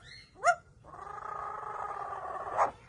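A parrot imitates a dog with a short bark-like yelp, then a sustained growling, whining tone and another yelp, faint and close.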